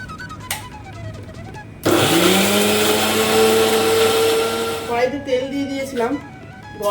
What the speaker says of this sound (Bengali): দুটো পেঁয়াজ গ্রাইন্ড করে নেবো